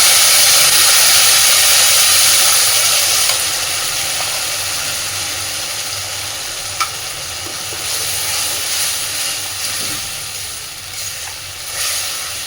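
Ground chili, tomato, garlic and ginger paste hits hot oil in a pan for a bhetki fish-bone chorchori, giving a loud, close, steady sizzle that eases slightly after a few seconds and carries on with faint stirring scrapes and no voices.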